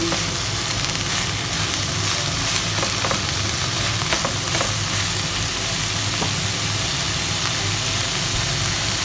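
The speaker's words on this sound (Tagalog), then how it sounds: "Tapos mix lang po natin. Ayan, gisa-gisahin lang po natin." Shredded cabbage sautéing in a hot pan for a Cebuano bam-i noodle dish, a steady, close sizzle with light stirring scrapes running continuously throughout, no voices.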